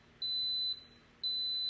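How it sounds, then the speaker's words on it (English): Instant Pot pressure cooker sounding two sustained high electronic beeps, each about half a second long with a pause between, clear and close over a quiet room. "once you hear the 3 beeps,"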